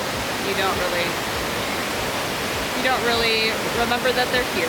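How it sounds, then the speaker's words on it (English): Steady rushing roar of Graveyard Fields Lower Falls on the Blue Ridge Parkway, a continuous broad wash of falling water, close and constant, with people talking over it. "when you just sit and watch the waterfall"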